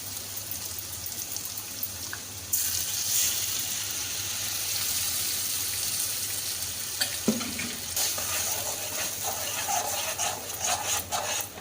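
Water splashes into a pan of Goan fish curry partway through, over a low background hiss, followed by a brighter bubbling sizzle and scattered clinks.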